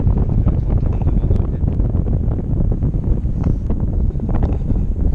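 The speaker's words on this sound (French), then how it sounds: "c'est le vent relatif ça" Loud, constant roar of relative wind, about 30-40 km/h, buffeting the microphone during a tandem paragliding flight in Ariège, France, a heavy rushing gust that never lets up.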